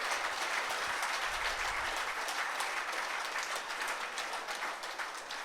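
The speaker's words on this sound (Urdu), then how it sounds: "میں چاہتا ہوں ان کے لیے بھرپور تالیاں بجائیں۔" Steady, dense applause from an audience filling an air-conditioned hall at a World Yoga Day gathering, many hands clapping evenly and continuously at a moderate distance, with no talking.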